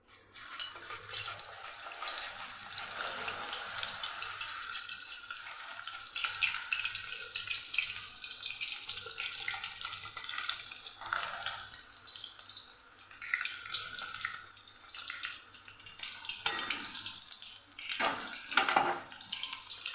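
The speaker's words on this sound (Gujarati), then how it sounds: "ડાયરેક્ટ આપણે વેફરને સીધી આપણે કડાઈની અંદર જ પાડવાની છે" Banana slices frying in hot oil make a steady, dense bubbling hiss that continues throughout, close and fairly loud, with no voices.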